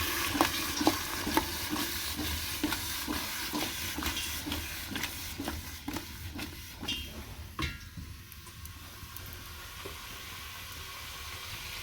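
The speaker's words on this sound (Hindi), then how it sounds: "अब हमने तेल में मूलियों को डाला है, इनको भी ऐसे ही फ्राई करना है।" Sliced radishes fry in hot oil, a steady soft sizzle punctuated by repeated stirring clicks and scrapes, fairly quiet and close with no voices.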